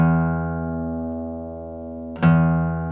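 An acoustic guitar's open sixth string rings as a low bass note that slowly decays, then is plucked again with a sharp attack and rings on, clear and alone.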